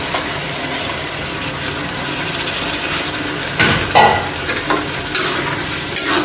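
Meat cooks in a pan in a Bangladeshi home kitchen just after a little water goes in, giving a loud, steady sizzle and bubbling hiss with a few scraping stirs toward the end.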